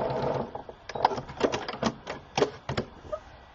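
A sewing machine stitches a quilt block, its rapid mechanical clatter running in short uneven bursts with brief stops, close and steady.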